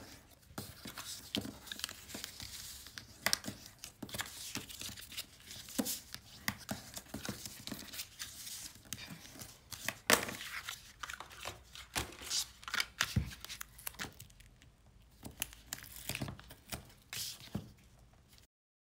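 Paper flaps for an explosion box are creased and folded by hand, giving close, soft crinkles, taps and rustles in irregular bursts that fade out near the end.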